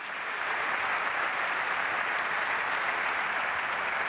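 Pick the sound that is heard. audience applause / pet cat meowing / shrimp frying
audience applause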